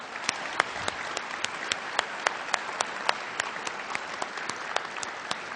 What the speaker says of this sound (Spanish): Yo quiero que les brindemos juntos un gran aplauso.